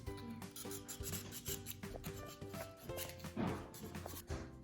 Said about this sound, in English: One more sandpaper.